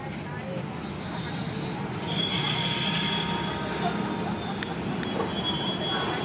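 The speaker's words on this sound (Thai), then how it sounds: "ลพบุรีกรุงเทพนะครับ304เข้าจอดที่ชานชลาที่4แล้ว" Diesel railcar 304 pulls into a platform at Bang Sue station, its wheels squealing and grinding with a steady rumble and thin metallic screeches at high pitch, while someone talks over it.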